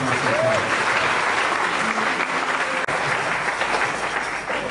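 A church congregation breaks into sustained, loud applause, many hands clapping close and continuous for the whole stretch, with a faint voice briefly audible beneath it.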